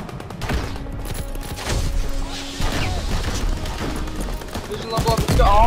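Battle sounds in a WW2 shooter game with a Karabin rifle, with repeated gunshots, crashes and explosions among tanks and infantry, loud and busy, while a player talks excitedly over it.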